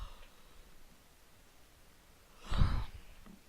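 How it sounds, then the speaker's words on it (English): A person gives one short, breathy yawn late in an otherwise quiet moment while playing Hearthstone, a soft exhaled rush that rises and fades. "Sorry, I'm yawning."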